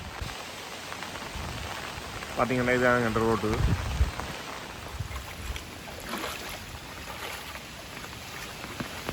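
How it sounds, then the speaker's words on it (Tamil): Continuous rain and floodwater run along a flooded road in Madduvil village in Jaffna after a day of heavy rain, making a steady broadband wash throughout, with someone speaking briefly over it. "இன்றைக்கி இப்போ தொடர்ந்து பெய்கிற மழையால் வந்து பார்த்தீங்கன்னா எல்லா இடத்துலையும் வெள்ளமாக இருக்குது."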